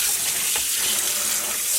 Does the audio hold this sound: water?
yes